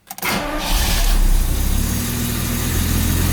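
An old V12 engine cranks briefly, catches and fires up, then settles into a loud, steady idle close by, with no one talking.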